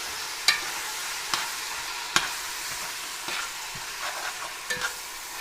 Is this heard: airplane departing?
no